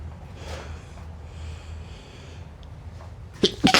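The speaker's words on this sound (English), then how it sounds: "I just started sneezing." A person sneezes twice in quick succession near the end, sharp and loud, after several seconds of quiet room tone with a low hum.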